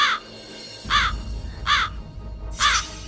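Four harsh, crow-like calls of an Asir magpie ring out at roughly even intervals, each a short raspy burst over a low rumbling background.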